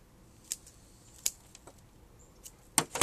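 A small Christmas bonsai tree branch being cut, a few sharp separate snips with quiet gaps, the last ones clustered close together.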